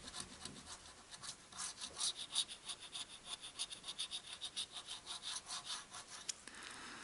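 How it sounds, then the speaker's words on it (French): A coin scrapes briskly across Olympic Games Paris 2024 scratch-card lottery tickets, a fast rhythmic series of close, soft raspy strokes that stops near the end. "On va déjà gratter toutes les lignes."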